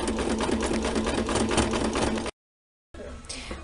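A sewing machine stitches an apron seam over an earlier seam, a loud rapid buzz for about two seconds before a sudden cut to silence, then softer handling noise.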